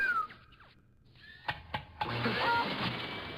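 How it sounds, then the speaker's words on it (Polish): A toy-like vacuum cleaner switches on with a couple of clicks, then a steady whirring hum starts and runs loud and continuous to the end. "O, jaki fajny odkurzacz. Włączę go."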